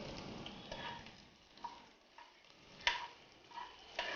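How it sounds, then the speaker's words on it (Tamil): Ginger, garlic and curry leaves sautéing in a pan give a faint, steady sizzle broken by a few soft scrapes and taps of stirring, with no talk. "நல்லா மிக்ஸ் பண்ணி விடுங்க, வதக்கி விடுங்க."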